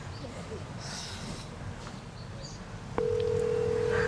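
A phone call begins with muffled room noise, then a steady ringback tone sounds loud and continuous for the last second, with no talking heard.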